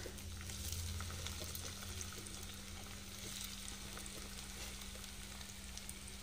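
Tomatoes frying in a pan of leftover oil, where brinjal was just cooked, with a steady dense sizzle and crackle under a low hum, close and continuous with no talk.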